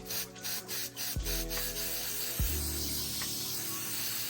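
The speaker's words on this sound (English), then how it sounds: "We're just gonna go ahead, spray all around like this." Short bursts of shoe conditioner spray hiss close up over Air Jordan 4 sneakers, several quick pumps in a row followed by longer sustained spraying.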